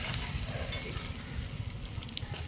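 Spice paste with chilli and turmeric stir-fried until dry in a pan for an egg curry, a continuous low sizzle with soft scraping stirs throughout, close and moderate, without speech.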